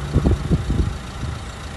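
A car engine idles after running for about 25 minutes, a close, steady low rumble with a slightly uneven throb in its first half, settling smoothly with no rattles.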